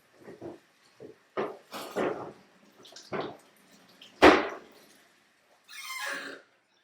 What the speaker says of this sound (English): I'm going to bring it over to the sink and rinse it off with cold water.